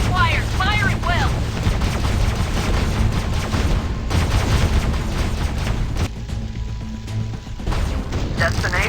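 Gunfire from the mobile shooter game Last Z: Survival Shooter rattles in a dense, unbroken barrage, loud and continuous, with a brief voice near the start.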